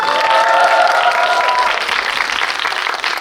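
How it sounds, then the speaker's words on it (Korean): A cinema audience at a CGV stage greeting claps for two film actors, a bright burst of many hands up close that thins out slightly after the first couple of seconds. "이 두 배우한테 힘찬 박수를 좀 부탁드리기 바랍니다"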